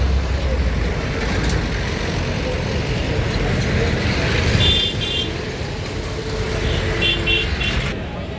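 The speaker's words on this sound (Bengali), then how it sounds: "রাস্তায় বাইকেল এলাকায় কি পরিমাণ জ্যাম" A dense roadway traffic jam of cars and buses during the Eid rush home, a loud continuous rumble of idling and crawling engines close by, with several short horn toots breaking through and faint voices in the crowd.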